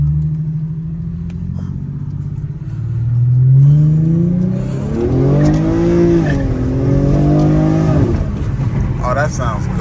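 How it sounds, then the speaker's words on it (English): Infiniti G37 with a muffler delete accelerating hard in first gear, the exhaust note rising steadily in pitch through a loud pull, then easing off near the end, with no talking. "So this is the first pull with the muffler delete. I'm in first gear."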